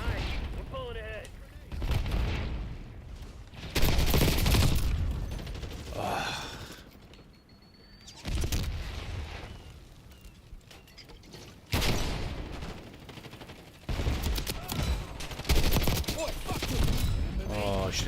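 Gunfire in a first-person shooter game, with loud bursts of shots and explosive impacts coming in clusters, separated by quieter gaps, while a player talks between and over them.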